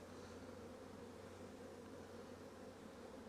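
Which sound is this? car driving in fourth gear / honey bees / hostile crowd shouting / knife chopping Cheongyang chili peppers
honey bees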